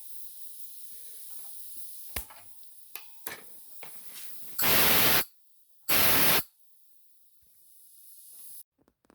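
Compressed air escaping from a freshly charged system: scattered faint clicks and ticks over a low background, then two loud, steady hissing bursts about a second apart, each cut off sharply.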